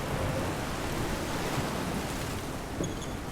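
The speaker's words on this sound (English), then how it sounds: "with the rain pounding across the deck and the spray from the broken waves washing the length of the ship" Heavy rain pounds a sailing ship's deck in a storm, a dense steady hiss with broadband rumble, continuous and close, with no voices.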